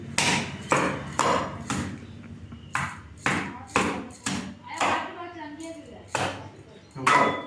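Moringa drumstick pods pounded for drumstick soup in a home kitchen, a steady series of about ten crisp, ringing knocks in an even rhythm, close and fairly loud.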